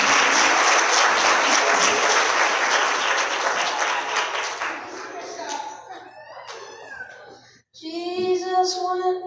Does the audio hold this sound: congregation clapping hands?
yes